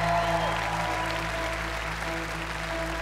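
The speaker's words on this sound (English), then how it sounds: "A big round of applause," Studio audience applauding as Simon joins the stage at a televised talent show audition, a steady broad wash of clapping over a constant low hum for the whole stretch.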